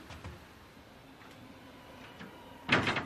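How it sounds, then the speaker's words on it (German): A door is shut in a quiet room with a dull thud and rattle near the end, preceded by faint scattered knocks and soft movement against low background hiss. "Tür zu."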